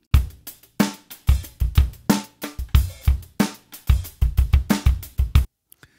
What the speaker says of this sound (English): I also put in a dry drum groove that sounds like this.